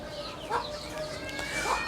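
A sick hen clucks twice at close range, each a short nasal cluck, over steady farmyard background noise.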